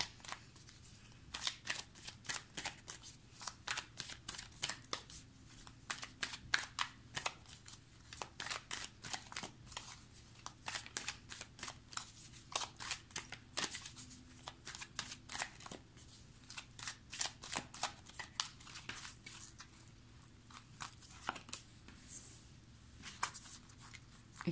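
Oracle cards being shuffled and drawn by hand, a long run of crisp papery flicks and slaps in irregular rapid bursts, close and fairly quiet, with no talking.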